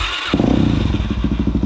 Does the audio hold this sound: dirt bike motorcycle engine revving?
yes